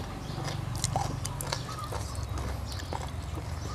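Someone bites and chews crispy grilled meat close to the mic, with crunchy, crackling bites over steady low background noise.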